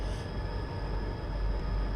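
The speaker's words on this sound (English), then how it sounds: "And we got an intermodal train behind us." Intermodal freight train on the ATSF Surfline in Train Simulator 2020, a steady low rumble of rolling railcars with a constant whining tone, continuous and fairly close with no talk.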